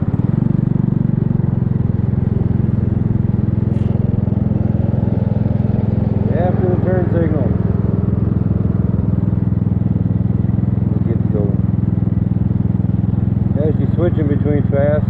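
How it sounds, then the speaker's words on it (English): A Kymco People 250cc scooter engine idles with a steady low putter, loud and close, switching between fast and slow idle with occasional brief revs rising and falling. "Switching between fast idle and slow idle."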